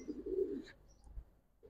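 A male Giribaz pigeon gives a short, low coo up close, followed by a faint clatter and a brief second soft note near the end.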